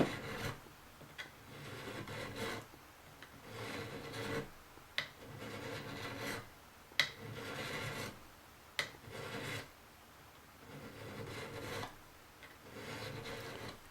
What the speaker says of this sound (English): you can see that I'm flattening the file out more and more just to get that rounded edge.